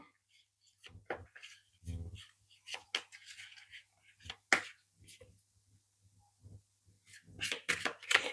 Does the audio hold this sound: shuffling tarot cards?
yes